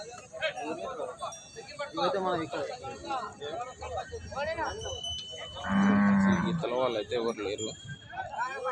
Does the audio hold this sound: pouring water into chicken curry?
no